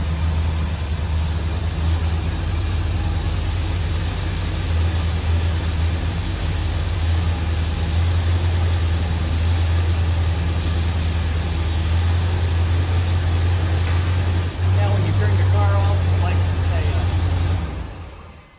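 A 1979 Chevrolet Corvette C3 engine runs at a steady, loud idle close by, with a deep low rumble throughout and a brief rise near the end, under occasional talk.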